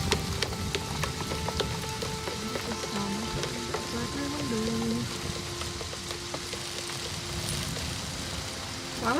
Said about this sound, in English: I find it interesting that you can still hear the rain.